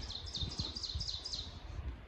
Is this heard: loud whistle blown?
no